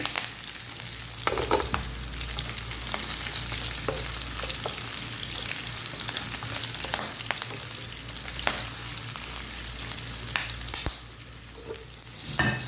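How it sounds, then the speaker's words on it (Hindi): Hot oil sizzles and crackles steadily and close up as spices and green chillies temper for Punjabi kadhi pakora, with occasional sharp pops and stirring scrapes throughout. "अच्छे तरीके से मैं इसका तड़का तैयार कर रही हूँ।"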